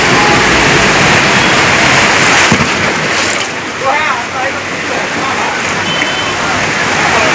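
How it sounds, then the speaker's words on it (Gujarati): Heavy rain pours down in Patan, with floodwater deep enough to reach car bonnets. A loud, unbroken rushing wash of rain and water dominates throughout, while a voice talks over it. "આટલો આપણા પાટણની અંદર વરસાદ છે."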